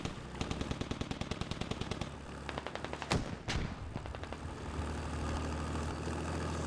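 Rapid automatic gunfire in the military shooter game Squad, a fast burst of evenly spaced shots followed by a couple of heavy blasts, with vehicle engine rumble continuing underneath.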